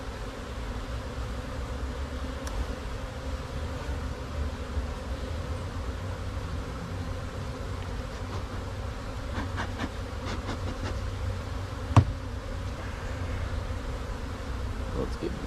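Honeybees buzzing around a hive left open too long, a steady agitated hum throughout with a few faint handling clicks and a sharp knock near the end.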